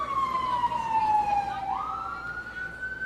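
An ambulance siren wails loud and close outside a mayor's press briefing, its tone gliding down and then sweeping back up as it passes.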